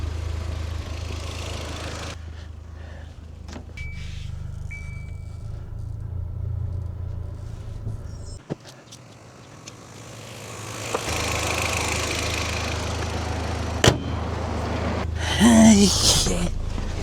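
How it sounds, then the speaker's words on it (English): An Audi engine idles roughly with a low, uneven rumble, dipping and surging partway through, with a few sharp clicks and a brief louder burst near the end, with no talk. "As you can hear, the Audi is having some issues."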